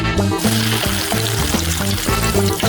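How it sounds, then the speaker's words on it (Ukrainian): Potato shapes frying in boiling oil, a loud continuous bubbling sizzle filling the whole stretch, with some rhythmic tonal music underneath. "І тільки після цього їх можна занурювати в киплячу олію."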